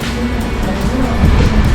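A Mitsubishi 4B11T engine from an Evo X, fitted into a Proton Inspira, runs at a steady idle with a continuous low rumble and a constant drone that stays close and loud throughout.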